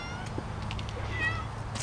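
A cat in a game meowing: a few faint, short high mews over a steady low hum, somewhat distant and soft.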